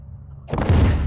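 Gunship cannon rounds firing in Call of Duty Modern Warfare 2, a single heavy booming burst after a brief quiet moment, loud and close with a rumbling tail.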